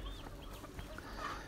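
Young farm chickens cluck softly and chirp in short overlapping calls, close and fairly quiet over a low background hum, with no talking.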